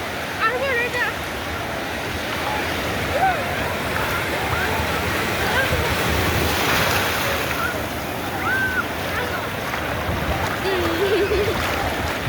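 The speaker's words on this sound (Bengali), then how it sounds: "কত বড় ঢেউ দেখছো।" Big sea waves breaking on the beach at Cox's Bazar, a steady broad wash of surf with wind across the whole stretch, faint voices of people in the background.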